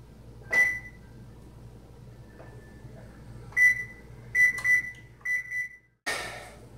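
Kitchen oven beeps as it is set to preheat: a series of short electronic bleeps, some single and some doubled, spaced irregularly over quiet room tone, ending with a brief clatter.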